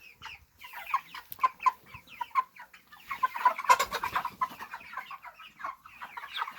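Six-week-old broiler chickens cluck repeatedly nearby in short, irregular bursts, several birds overlapping with quieter background shuffling.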